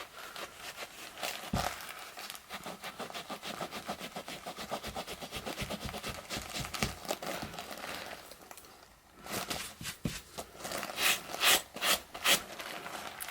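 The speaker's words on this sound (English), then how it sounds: "Going to take our handy dandy eraser and really dig in here and kind of get those spots erased off." An eraser scrubs hard at spots on suede UGG boots, a dry rasping rub in quick back-and-forth strokes, close and fairly quiet, with a brief pause before the scrubbing picks up again.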